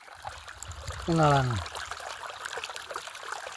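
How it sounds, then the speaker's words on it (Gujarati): Water trickles steadily from a pipe used for watering trees and gurgles faintly in the background, while a voice briefly speaks over it. "જો આવું કાંક પાણી આવે છે"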